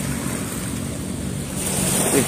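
Waves wash against the shore of Manila Bay in a steady broadband surge, building slightly toward the end, with wind buffeting the microphone throughout.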